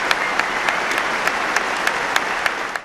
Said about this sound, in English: A moment of applause by England and Australia's rugby players at Twickenham.